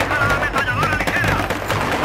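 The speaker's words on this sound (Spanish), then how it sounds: "ametralladora ligera" A light machine gun fires in Battlefield 3, delivering loud, rapid sustained bursts of gunfire that run continuously through the moment with dense, closely spaced shots.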